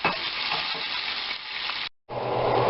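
Ground lamb sizzling and browning in a pan, a steady loud crackle with stirring scrapes, briefly cut off before the sizzle resumes.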